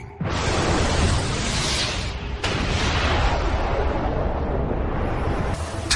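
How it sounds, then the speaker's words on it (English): A massive roaring explosion effect representing the Big Bang erupts suddenly and rumbles on as a dense, loud wash of noise, with a second surge about halfway through, and no voices. "The universe simply burst into existence, an event called the Big Bang."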